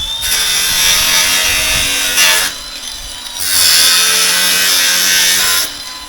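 An angle grinder cutting wooden fascia and barge boards, two loud sustained close bursts of harsh cutting with a brief drop between them.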